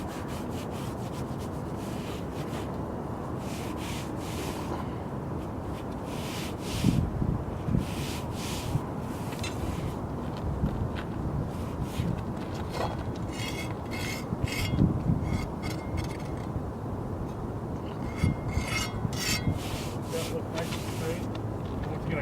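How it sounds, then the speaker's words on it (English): A hand rubs steadily along caulking to strip it during flashing work, a continuous rough scraping and brushing that stays close and fairly loud, with wind buffeting the microphone and brief louder scuffs. "You got a little bit of caulking here to remove. Just rub your hand along that."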